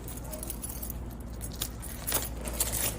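Keys jangling as they are slipped into a nylon outdoor chest bag, a soft metallic clinking that grows busier toward the end over light background noise.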